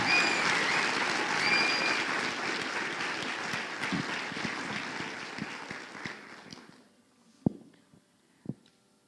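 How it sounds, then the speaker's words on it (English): An audience applauds an orchestra of central Iowa musicians at a Bharatanatyam dance recital with Carnatic music, dense clapping that gradually thins out and fades, leaving a few last isolated claps near the end. "please join me in giving them a round of applause"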